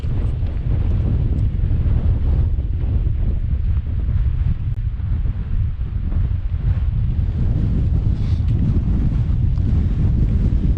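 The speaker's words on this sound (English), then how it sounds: "the weather's turned pretty wild again. Really windy, blustery." Strong, blustery wind roars steadily against the microphone on the high moorland of the Yorkshire Dales, a heavy low rumble that never lets up.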